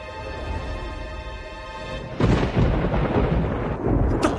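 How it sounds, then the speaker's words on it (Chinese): A sudden crash of thunder breaks in after a steady humming backdrop, rolling on as a loud rumble with another sharp crack near the end. "打雷了，本大爷最讨厌巨响。"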